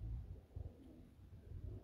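Low, soft cooing from a fancy breeder pigeon held in the hand, several muffled coos repeating in a loose rhythm close to the listener, with no talk over them.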